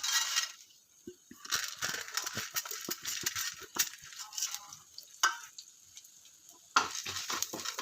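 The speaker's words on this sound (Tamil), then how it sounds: "சிம்லேயே வச்சு நல்லா வதக்கிக்கலாம்" Ingredients with coconut sautéing in oil in a kadai, a faint sizzle broken by scattered scraping and clinking stirs, no talking.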